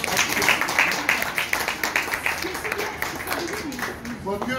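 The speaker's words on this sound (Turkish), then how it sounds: "Bakıyorum işlem yapmayanlar alkışlanıyorlar." Applause at a real estate company's quarterly award ceremony: a crowd claps steadily, a dense patter of hand claps that continues throughout under a voice speaking over it.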